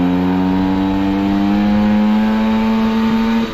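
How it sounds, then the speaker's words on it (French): A modified scooter engine revving hard and steady, a loud buzzing whine held at high revs with a slight upward pitch drift before easing off at the end. "mon moteur est devenu creux et du coup il a besoin de prendre un peu plus de tours qu'avant"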